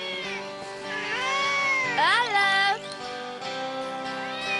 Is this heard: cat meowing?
yes